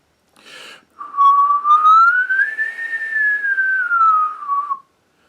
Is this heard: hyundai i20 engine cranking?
no